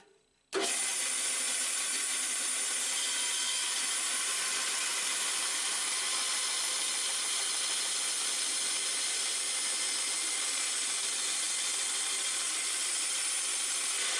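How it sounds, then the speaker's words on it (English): A bandsaw cuts through tough rosewood and desert ironwood knife handle pins, starting abruptly after a brief quiet moment and holding a loud, steady, close grinding whine with no talking. "we can slide this under the bandsaw blades pretty easily"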